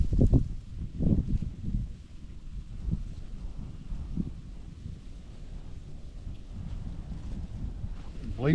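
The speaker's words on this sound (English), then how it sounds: "You can see how the wind's blowing there, you guys." Wind blowing outdoors along a trail, buffeting the microphone with low, rumbling gusts that are strongest at the start and then settle into a steady, muffled roar.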